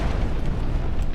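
A frag grenade goes off in the shooter game Crysis as one brief, dense, rumbling blast, loud and close, with no voices over it.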